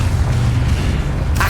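A Confringo blasting spell explodes in Hogwarts Legacy, a deep, loud, rumbling boom that fills the whole moment, with a brighter crackle flaring at the very end.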